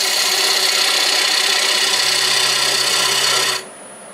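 On a wood lathe, a tool cleans up and bevels a glued-on wood block, making a loud, steady scraping whir close by that cuts off sharply near the end, leaving a quieter motor hum.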